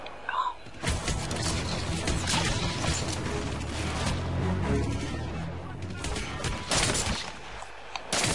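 Repeated sniper rifle shots in the stealth shooter Hitman Absolution, firing at a target across a street, sounding as dense, loud gunfire cracks over a continuous game soundscape with no talk.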